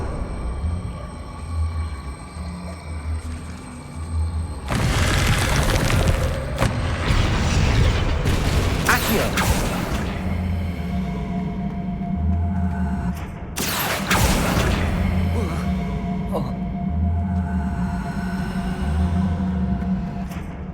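Magical spell effects from the video game Hogwarts Legacy: loud booming whooshes and crackling bursts, with the biggest surges around five and fourteen seconds, over a steady low rhythmic game music bed.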